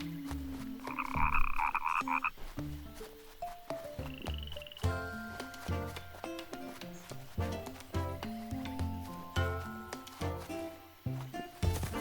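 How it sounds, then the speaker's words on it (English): Cartoonish frog croaks from a small frog in the storybook video game The Plucky Squire, ringing out over bright, bouncy game music with plucked melodic notes throughout. "go see that little frog."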